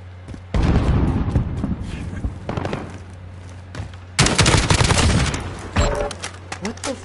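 Bursts of automatic assault rifle fire in Call of Duty: Modern Warfare, loud close rattling volleys separated by short pauses, with a longer sustained burst near the end and a voice talking between the shots.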